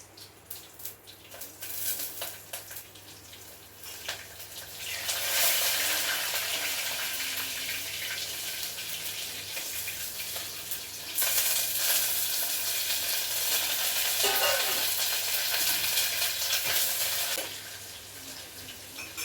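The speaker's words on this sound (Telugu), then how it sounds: "ఎండుమిర్చి, పచ్చిమిర్చి, ఆనియన్ ముక్కలు, కరివేపాకు, ఎల్లిపాయలు ఇవన్నీ దంచుకున్నాండి. ఎల్లుల్లి వేసేస్తున్నా." Garlic, dried and green chillies, onion pieces and curry leaves fry in a pan for a home-cooked rasam, a soft start giving way to a loud, steady sizzle that holds for several seconds before easing slightly at the end.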